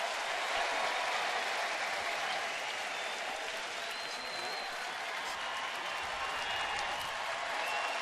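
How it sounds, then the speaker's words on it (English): Broad, sustained crowd roar and applause at a baseball game in Cleveland after a home run, a steady dense wash of cheering that stays level throughout, heard at a distance. "This crowd that has been silent all day long until the Swisher homer in the 6th, but they're eating it up now"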